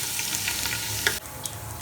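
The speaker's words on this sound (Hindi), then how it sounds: "अब हम इसमें अदरक लहसुन का पेस्ट ऐड करेंगे" Ginger garlic paste frying in about half a cup of hot oil in a pan for restaurant-style chicken chow mein, giving a steady close crackling sizzle with a few sharper spits and a brief stir near the end, no talking.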